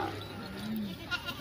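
Goats in a herd of about 400 at a goat farm give a faint, drawn-out bleat amid low outdoor background noise, fairly distant and quiet.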